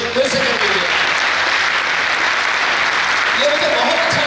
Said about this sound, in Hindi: अपने लिए एक जोरदार तालियां फिर से कर दीजिए